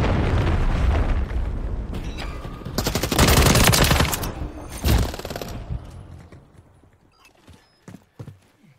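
Heavy blasts of a grenade explosion in Call of Duty Modern Warfare III multiplayer burst loudly in the middle, with rumbling debris and scattered gunfire before and fading sharp cracks afterward.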